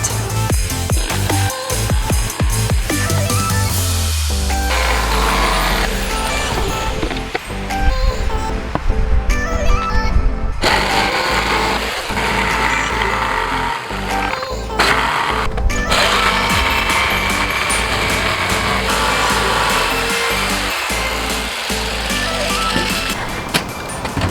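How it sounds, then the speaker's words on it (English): A jigsaw cuts a wooden Grinch lawn ornament, giving a loud, steady rasping buzz that runs nearly the whole time, with brief dips around the middle where the blade pauses. "Let's go use the jigsaw and cut it out."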